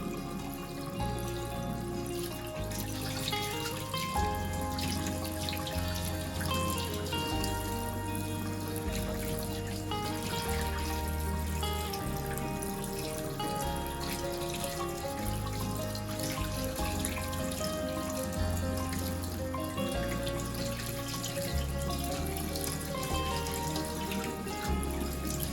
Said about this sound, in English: rinse it under running water